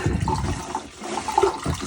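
Water flushing through a newly replaced Jabsco marine toilet pump, a close gurgling, swirling rush with small splashy surges lasting under two seconds.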